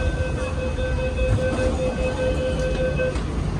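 A metro train in Nagpur rumbles steadily with a sustained low roar and a faint tonal whine running throughout, no voices present.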